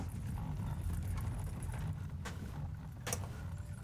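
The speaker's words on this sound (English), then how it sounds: "You hear some horses approaching as it's getting towards later in the afternoon." Horses approaching as a tabletop game sound effect: faint hoof clip-clops over a low rumbling background, with a couple of sharper clicks near the end.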